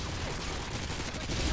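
Steady, dense gunfire in the video game Modern Warfare 2, a continuous rattling barrage with no voices over it.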